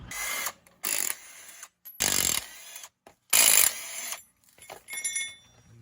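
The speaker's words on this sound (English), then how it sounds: "Now I guess we will undo our sway bar bolts there and there. I'll get my impact and do that." Impact wrench undoing sway bar bolts on a vehicle, in several loud, close bursts of rapid hammering rattle separated by short silences, with a faint clink between them and no speech.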